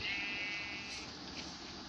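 A sheep in the Minecraft video game bleats once, a short, clear wavering call near the start that fades quickly.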